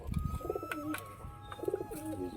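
Pigeons coo nearby in a loft, with soft repeated throaty coos coming in short phrases alongside faint background hum.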